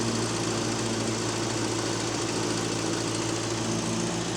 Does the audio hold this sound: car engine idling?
yes